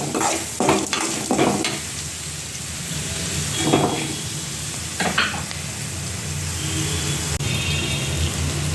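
Onions sizzle and fry in a pan with curry leaves, turmeric and salt while a spoon stirs them in repeated scraping bursts, steady and close with no talking.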